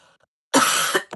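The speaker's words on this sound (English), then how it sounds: "Sorry, I got the coughs." One person gives a single harsh, loud cough close by, followed by a short throat-clearing rasp, after near silence.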